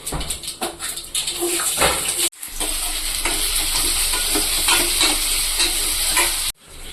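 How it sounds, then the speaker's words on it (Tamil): Onions frying in a pan for prawn kuzhambu, a loud continuous sizzle close up with repeated scraping and clatter of stirring, briefly interrupted twice. "இப்போ இந்த வெங்காயத்தை போட்டுக்கலாம்"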